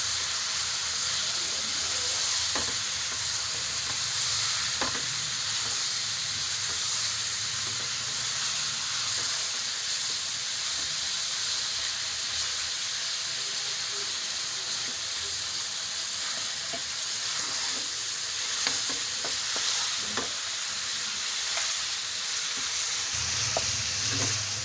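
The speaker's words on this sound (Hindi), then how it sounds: "साबुत गरम मसाला ऐड करके अब हम इसकी भुनाई कर लेंगे।" Chicken frying with whole garam masala and spices for biryani, a constant loud sizzle and hiss with occasional stirring clinks of a spoon against the pot, steady throughout with no talking.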